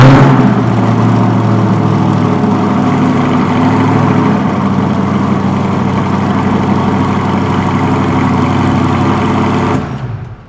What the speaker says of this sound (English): These are Borla carbon fiber tip multi-mode exhaust.